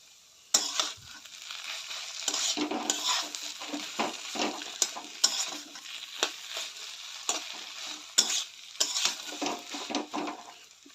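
Papaya greens cook in a pan with already-fried potatoes added, giving a close sizzle broken by repeated scraping stirs and occasional utensil clinks against the pan, with no one speaking.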